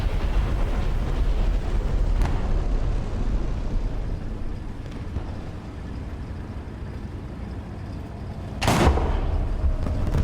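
Gunfire in War Thunder tank combat over a constant rumbling engine drone: a faint distant shot early on and a louder, sharper blast near the end.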